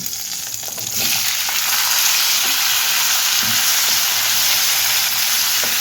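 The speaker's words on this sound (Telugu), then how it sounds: "శుభ్రంగా వేపుకుందాము టమాటా ముక్కల్ని వేసుకుందాము" Four chopped tomatoes hit hot oil with sautéed ingredients in a pan, setting off a loud, close, continuous sizzle with a few soft stirring scrapes and no voices.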